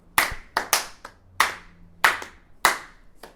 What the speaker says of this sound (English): I'm going to clap now just to be able to synchronize all the cameras and the microphones